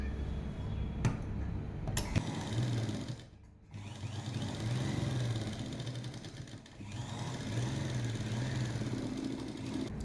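Sewing machine stitching a lining onto a jacket, a steady mechanical run with a brief pause and a second short break, close and fairly quiet throughout.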